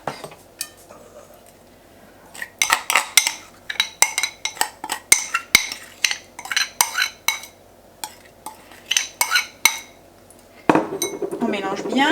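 A utensil clatters rhythmically against a bowl while Mexican chicken salad is tossed with vinaigrette, the close, bright clinks and scrapes coming in quick bursts, with a louder rustle near the end.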